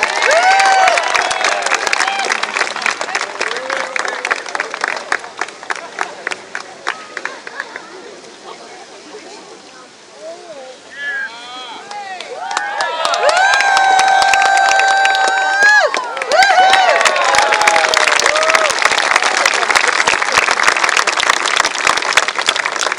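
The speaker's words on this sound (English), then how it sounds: "And give him a big round of applause." Crowd at an outdoor Scottish highland games in Victoria, BC applauds and cheers a caber toss athlete, with loud sustained clapping that dips midway under a whistle-like tone, then swells again.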